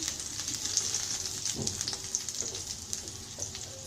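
Onions sizzle steadily in hot oil as they fry until reddish-brown, a continuous close crackling hiss with a few soft knocks and no voices.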